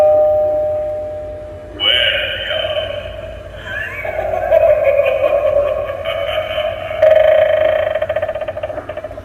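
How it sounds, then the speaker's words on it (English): A toy Halloween doorbell beside a real door chime plays a loud electronic jingle with a spooky melody and voice-like sounds, starting abruptly after a brief tone and continuing steadily to the end. "And then we have our play doorbell next to our real one."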